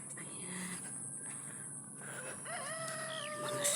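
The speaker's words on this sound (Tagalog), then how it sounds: "Ayan, may mga manok." Chickens cluck nearby on a rural farm while a rooster crows, several short calls and one drawn-out crow toward the end, fairly faint against a steady background hiss.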